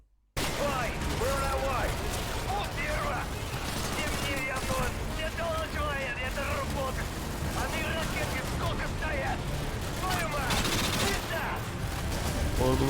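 Gunfire in Call of Duty Modern Warfare 2: rapid bursts and continuous shooting under a player's talk throughout.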